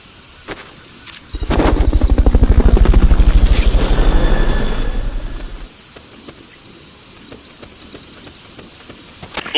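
In Metal Gear Solid: Peace Walker, a helicopter's rotor chop swells in loudly, thumps rhythmically for a few seconds, then fades away, leaving quiet insect-like ambience.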